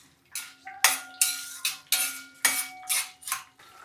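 Toor dal roasts in a pan over a low flame while a metal spatula scrapes and knocks against the pan in a regular rhythm, about eight sharp strokes, close and clear, no voices.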